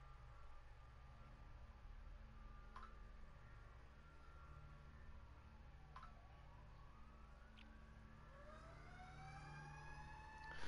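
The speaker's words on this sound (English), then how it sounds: "there's sirens and everything" Emergency vehicle sirens wail outdoors at a distance, rising and falling sweeps building toward the end over a steady low background rumble, with no talk.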